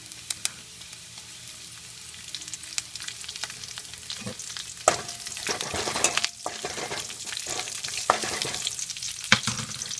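Curry leaves dropped into hot oil in a pan for Erode-style Pallipalayam chicken, crackling and sizzling steadily with sharp spattering pops and the clatter of stirring, close and fairly loud, no talk.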